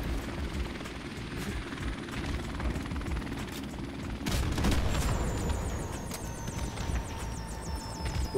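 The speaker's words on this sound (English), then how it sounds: "Enemy helicopter inbound." Enemy helicopter in Call of Duty Modern Warfare Remastered, a steady rotor drone with scattered gunfire bursts and mechanical clatter, growing louder midway as a whistling tone sweeps across the battle.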